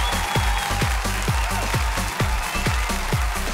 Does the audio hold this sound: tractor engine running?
no